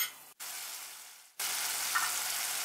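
Onions and tomatoes fry in a pan with a loud, steady sizzle, briefly dropping out and fading before surging back stronger, close and alone without voices.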